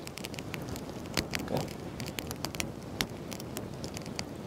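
Charcoal fire burning under a whole chicken roasting outdoors in a village, soft steady crackle and hiss with scattered sharp pops, fairly close, no talk.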